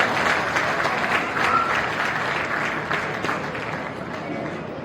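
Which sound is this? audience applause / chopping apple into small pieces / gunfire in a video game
audience applause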